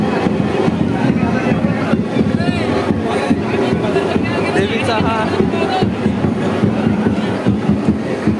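A dense crowd of worshippers gathers at a hilltop goddess temple, a continuous busy babble of many voices and shuffling with breezy microphone wind, while someone speaks close over it.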